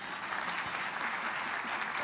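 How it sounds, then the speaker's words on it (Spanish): An audience claps for Sandra at a talk, a steady wash of applause from a seated crowd that holds evenly throughout, moderately quiet, with no voices over it. "Un aplausito para Sandra."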